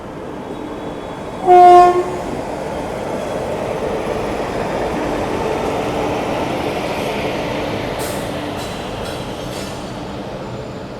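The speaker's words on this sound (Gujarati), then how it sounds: "હમણાં આપણી ટ્રેન આવવાની છે અને આજની ટ્રેન આપણી રહેવાની છે અન્નાકુલમ ઓખા એક્સપ્રેસ" The Ernakulam–Okha Express rolls past on an electrified line, its horn blasting loudly early on, then a long steady rumble of wheels and coaches with brief squeals near the end.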